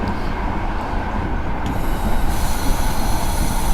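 Train braking in Train Simulator 2015: metal wheels squeal and grind steadily on the rails, loud and close, growing a little stronger partway through, with no voices.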